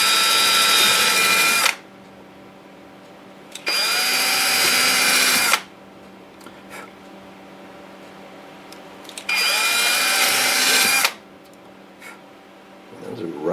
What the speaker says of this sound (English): So I believe what we drill is small starter holes,